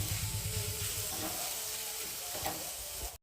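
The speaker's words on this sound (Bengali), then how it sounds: "বেশ লাল লাল করে রসুন আদা ভেজে নিতে হবে, একটু সময় লাগবে ভাজতে।" Garlic and ginger paste frying in a pan, a steady loud sizzle with occasional stirring scrapes, close and continuous without speech.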